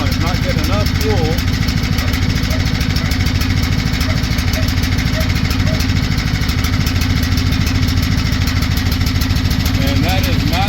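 Small engine fitted with a cheap Chinese carburetor running lean, a steady, loud, close idle with continuous rough rumble and mechanical vibration throughout, with a voice faintly audible over it.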